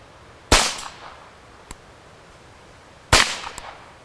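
Two sharp, loud gunshots from a Ruger Charger .22LR pistol, a few seconds apart, each with a short ringing decay and a faint metallic tick after the first.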